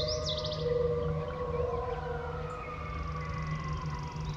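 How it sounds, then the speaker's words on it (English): Coyotes calling at dawn outdoors in nature, high wavering howls and yips sliding over a steady low background hum, moderately distant and sustained. "Coyotes."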